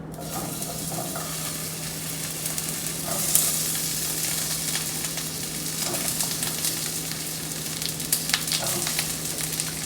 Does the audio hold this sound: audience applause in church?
no